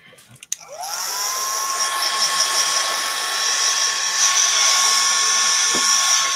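A dryer blasts air over a freshly painted base: a brief click, then the motor spins up into a loud, steady, whining roar that holds without a break.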